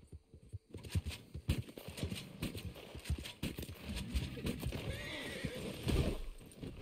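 Horse in the Red Dead Online video game neighs and whinnies amid a steady run of clip-clopping hooves, close and fairly loud, with no talking over it.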